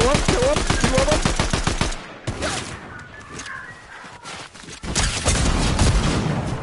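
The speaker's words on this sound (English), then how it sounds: "They're shooting at me." Rapid automatic gunfire from the video game Fortnite, a fast burst of loud shots for about two seconds, then sporadic distant shots and game effects, with players talking excitedly over it.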